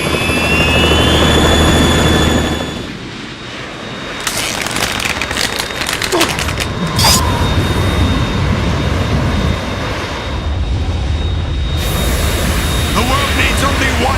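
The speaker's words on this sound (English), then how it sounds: "We're in trouble. It's the Harrier." Roaring jet engine of a Harrier jump jet in Metal Gear Solid 2, a loud sustained broadband rumble and whine that drops briefly then surges back, with sharp metallic bursts and game effects layered over it.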